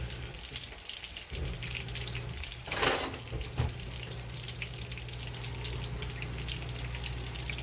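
Keto chicken nuggets fry in a pan with a steady close crackling sizzle, broken by a brief burst of louder spattering and a single clink partway through.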